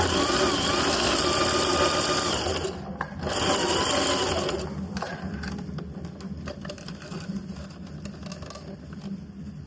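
A sewing machine runs in a fast, steady whir while stitching fabric for a small handmade Mother's Day gift, close and loud, briefly pausing around the third second before continuing a bit quieter.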